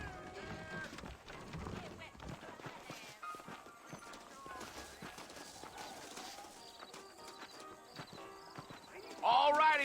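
Horse hooves clip-clop steadily along in Red Dead Redemption, mixed with other game sounds and voices talking, with a louder burst near the end.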